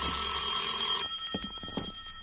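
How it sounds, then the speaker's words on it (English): A telephone rings in an old radio drama, one loud electric bell burst lasting about a second, followed by a quieter clatter as the handset is picked up. "At 10, my phone rang."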